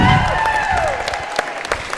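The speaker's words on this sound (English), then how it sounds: "Let's hear it with a big round of applause for all the teams competing today." Applause for the teams competing at a school robotics scrimmage. The clapping is fairly loud and fades over two seconds, with voices talking over it.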